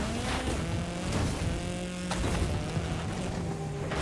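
A Porsche in a racing video game, its engine droning steadily with pitch rising and falling as it revs, loud and continuous with no talk over it.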